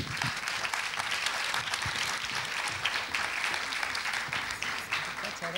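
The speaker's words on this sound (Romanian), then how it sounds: "aplauze pentru ei" Audience applauding prize-winning children at an art talent awards gala, a fairly faint but steady patter of many hands clapping throughout, with no break.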